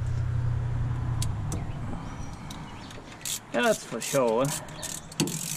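Ratchet tightening a bolt on a cheap misdrilled aftermarket header during an LS engine swap, a few quick bursts of clicking pawl strokes after a low idling rumble, close up, with a brief spoken remark.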